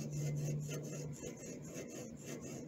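A clutch is ground by hand onto a crankshaft taper with valve grinding compound, making a quiet, close, gritty rubbing rasp in steady back-and-forth strokes.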